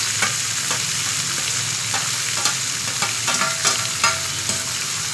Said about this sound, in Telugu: తాలింపు